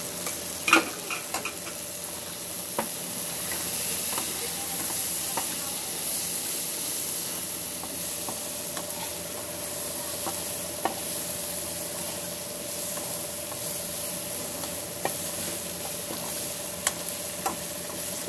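Spiced peas (matar) frying in a pan give a continuous close sizzle, with scattered scraping clicks as they are stirred, and no voices.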